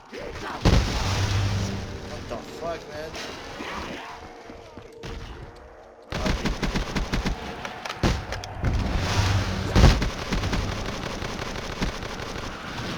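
Heavy cannon blasts and gunfire from a Panzer tank in a video game boom repeatedly, loud and dense, with a player briefly swearing over the chaos.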